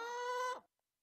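A short chicken cluck, produced as a beatbox-style sound, comes as a single bright burst of about half a second that cuts off abruptly into silence.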